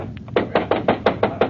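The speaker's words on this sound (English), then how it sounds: "I'll knock on the door." Knocking on a ship's cabin door: about seven evenly spaced raps in a steady rhythm, close and distinct, with a couple of faint taps just before them.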